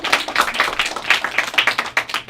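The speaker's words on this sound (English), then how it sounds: "but give an applause for all you people." A small group claps at a poetry show, giving short, uneven bursts of hand claps with distinct individual hits, close and moderately loud, for a couple of seconds.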